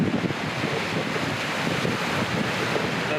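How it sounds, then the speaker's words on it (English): Ocean waves crashing on rocks at a beach at sunrise, a loud continuous roar of surf mixed with heavy wind buffeting the microphone, with no clear separate wave breaks. "you can see those waves crashing on the rock here"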